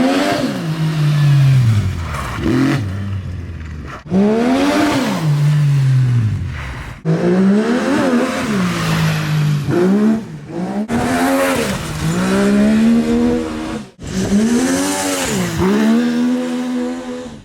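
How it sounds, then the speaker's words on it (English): Racing karts at the FIA Rally Star Continental Finals rev hard and pass by on the track, engines rising and falling loudly in repeated sweeping runs. "those karts, like I said, they just look so fun to drive"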